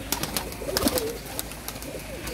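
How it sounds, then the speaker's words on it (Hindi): Pigeons cooing on a rooftop coop, soft throaty coos mixed with sharp fluttering clicks and wing flaps, close by and unaccompanied by speech. "ये कबूतर हैं जी"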